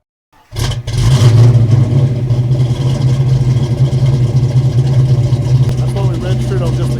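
Fox Body Mustang V8 with FlowMaster exhaust starting up, then idling and revving loudly and steadily close by, a deep rumbling drone with a roaring burble throughout.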